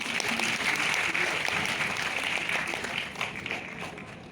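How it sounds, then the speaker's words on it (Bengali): An audience applauds at a value education gathering held at Vivekananda's house, steady dense clapping from many hands that stays loud throughout and eases slightly toward the end. "তাদের সকলের জন্য আমি একটা হাততালি দাবি করছি"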